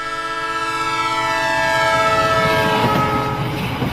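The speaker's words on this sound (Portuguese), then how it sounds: "Percebemos o efeito Doppler quando ouvimos o apito de um trem em movimento" A loud horn blows as a moving train passes, its sustained tone bending in pitch across a few seconds under rumbling rail noise.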